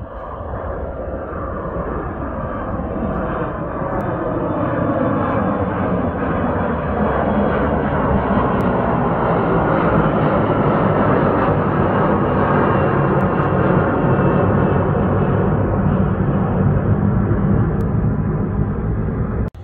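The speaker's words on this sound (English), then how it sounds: "we've got an American 737-800 cleared for takeoff, runway 15 left" An American Airlines Boeing 737-800 takes off, its jet engines building into a loud, steady broadband roar that stays near and sustained throughout.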